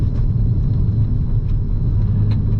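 Hyundai i20 N, a 2025 model, engine and exhaust note heard from inside while driving, a steady low sporty drone with road rumble, loud and continuous throughout without talk.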